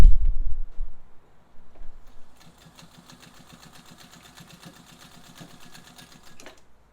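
A restored Singer 201 Centennial vintage sewing machine stitches fabric, starting after a loud low thump and then running in a steady, rapid mechanical patter with a rhythmic ticking at moderate loudness until it stops.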